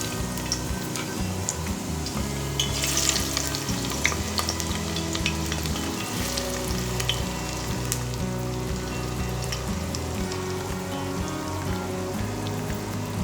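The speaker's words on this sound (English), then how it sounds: "Now our mustard oil is warm and I am going to add the chopped" Chopped onions crackle and spit in warm mustard oil for chicken biryani, a busy, rain-like sizzle with scattered pops and occasional stirring knocks, steady and close throughout.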